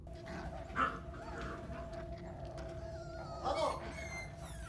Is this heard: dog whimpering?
yes